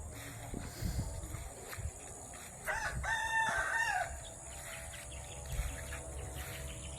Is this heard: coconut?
no